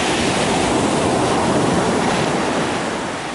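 Sea waves and surf, a continuous loud broadband rush of breaking water close by, steady throughout with no voices.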